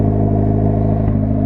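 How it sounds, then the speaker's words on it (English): Exhaust of a red Honda Integra idling fast, a steady low droning rumble with a rich harmonic hum, close and loud with no talking over it. "And you hear the exhaust sound right here."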